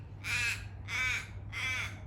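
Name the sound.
crow cawing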